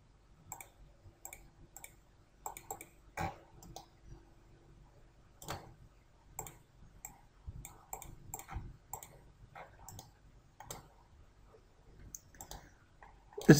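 A computer mouse clicking during CATIA design work, with sparse, close, quiet single clicks scattered irregularly over a near-silent background.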